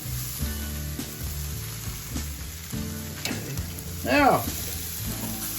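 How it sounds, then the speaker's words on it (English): Prime rib steaks sizzle over direct heat on an outdoor barbecue grill in a blizzard, a steady frying hiss throughout with scraping and handling noises, and someone briefly speaks. "I'm gonna just put this back on the grill here now for a few seconds. These prime rib steaks, just to warm them up a little bit on the direct heat from the barbecue."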